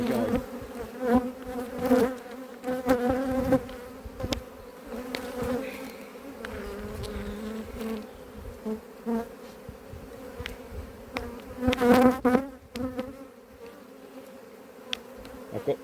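Angry honeybees swarm around an opened hive, a dense, loud, continuous buzz close by, with individual bees darting past and swelling in volume.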